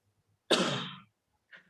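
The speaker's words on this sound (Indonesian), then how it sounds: "Langsung ditutup batuk lagi." A single sharp, harsh cough close by, followed a moment later by a short, faint throat sound.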